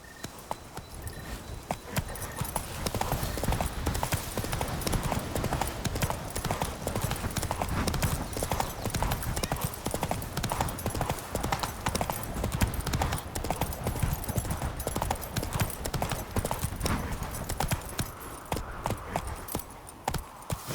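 Horse hooves clip-clopping at a steady trot in The Witcher 3, loud and continuous for the whole stretch with rhythmic footfalls over a dense ambient game backdrop.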